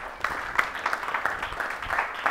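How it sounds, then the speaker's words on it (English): Studio audience applause at a real estate investing game show, a steady patter of clapping with uneven bursts over about two seconds, moderately loud and without speech. "Give her a round of applause."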